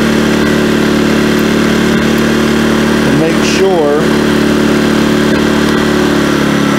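A small 2000-watt portable generator engine drones steadily at idle throughout, loud and close, with a person briefly speaking over it midway.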